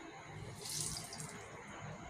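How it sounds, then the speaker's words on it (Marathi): Water hisses and trickles steadily as washed wild leafy greens (loti vegetable) are wrung out by hand over a plate, close and soft with a brief louder gush partway through. "पूर्ण त्यातून पाणी काढून टाकायचं"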